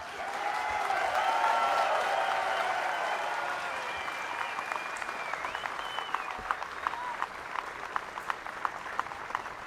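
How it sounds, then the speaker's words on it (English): Large crowd cheering and applauding loudly at the final round of a disc golf European Open at Nokia, a dense roar of clapping and shouts that peaks early then settles into steady applause with sharp individual claps and whistles. "Anttila gets huge cheers and applause here at Nokia"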